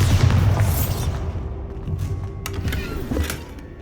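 Bombarda spell blast in Hogwarts Legacy, a deep booming thump at the start that rumbles and decays, followed by smaller crackles and pops of debris.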